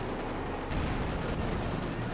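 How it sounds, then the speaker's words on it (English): Bazooka fire during a Company of Heroes 2 World War II strategy match: a faint burst of explosive shots about a second in, followed by scattered battle rumble at low volume. "nice bazooka shots"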